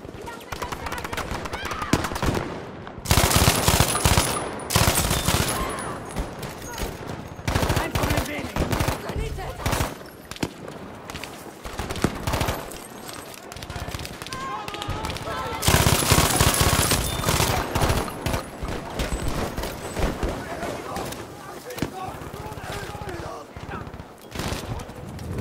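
MG42 machine gun fire in Battlefield 5 multiplayer, sustained loud bursts of rapid automatic shots broken by short pauses, with game voices speaking between bursts.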